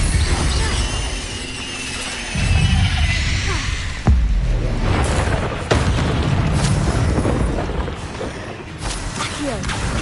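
Incendio fire spell cast in the Hogwarts Legacy video game, heard as dense, roaring bursts with booming impacts and a sharp crack midway, over a busy, loud game soundscape.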